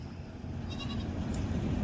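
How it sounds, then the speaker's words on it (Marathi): A herd of Kathiawari goats gathered in one place gives a single short, nasal bleat rising over a low rumble of background noise. "या बघा एका जागेवरती जमवलेल्या शेळ्या"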